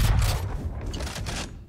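A minigun fires in the video game Valorant as a rapid, continuous burst of shots with low booming weight, loud and close, fading out at the end.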